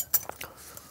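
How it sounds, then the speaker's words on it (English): Metal cutlery clinking against dishes at a takeaway food review, a few quick bright chinks within a second, close and clear with no speech. "Where's my cutlery?"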